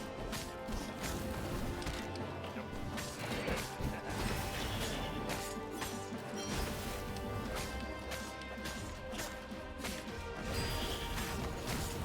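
Glass objects smash repeatedly in the video game Stories: Path of Destinies, sharp crashes and thwacks scattered across a dense, loud game soundscape with action whooshes and no clear talk.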